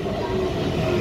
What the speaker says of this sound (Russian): О, поезд. А не наш поезд.